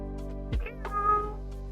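A cat gives one short, close meow over a steady low background hum.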